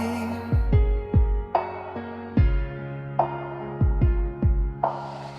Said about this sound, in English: no noise, just heartbeat